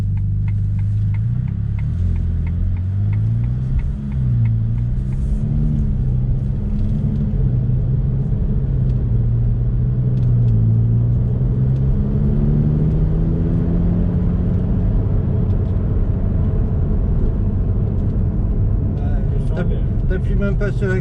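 A Ferrari Roma sports car cruising on a road, its engine a steady low rumble with gentle rises and falls in pitch, heard from inside the cabin under continuous conversation.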